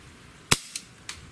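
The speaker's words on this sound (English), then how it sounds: "let's do our 5 shots with the BBs, see what type of velocity we get." Smith & Wesson M29 .44 Magnum-style CO2 BB revolver fires a single sharp, close crack, followed by two fainter snapping impacts, with no talk.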